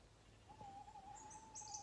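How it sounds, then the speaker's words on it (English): An owl hoots before dawn on a dark late-September morning at a farm campsite in Derbyshire, a faint, distant call rising from a very quiet, still background. "Can you hear the owl?"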